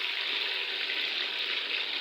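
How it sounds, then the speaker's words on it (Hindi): Chicken frying in oil in a pan, a steady close sizzle that holds at an even level from start to finish with no pauses. "ये देखिए, थोड़ी देर इसको फ्राई करती हूँ।"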